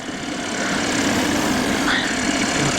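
Light aircraft engine held at idle during a gusty circuit, a steady loud drone with rushing wind noise throughout and no talk.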